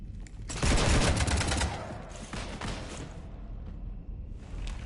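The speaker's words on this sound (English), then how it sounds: "You want to stop shooting up my ship?" Heavy gunfire peppers a ship in the Mass Effect 3 video game, a loud, dense volley of rapid shots and impacts that tails off into rumbling, scattered hits, with no speech.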